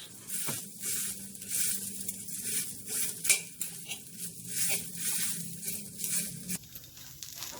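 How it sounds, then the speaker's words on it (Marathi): Pieces of bamboo shoot fry in oil in a pan, a close steady sizzle broken by scraping and stirring clinks of a utensil. "परत वयल्यान थोडे तेल घालून समज चुरचुरी जातपर्यंत हे भाजून घेवका"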